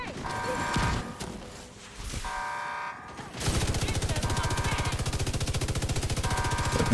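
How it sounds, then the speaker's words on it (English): Weapon fire in a combat video game, with a burst of sharp blasts early on giving way to a steady, rapid rhythmic pounding that runs loud and close through the second half. "Shooting first mortar."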